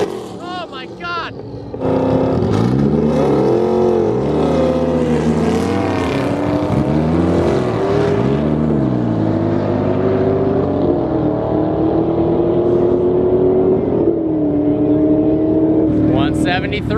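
Lamborghini twin-turbo engine revving hard, a loud sustained roar that climbs and falls through several rev sweeps, then holds a steady rising drone close by, with a brief voice at the start.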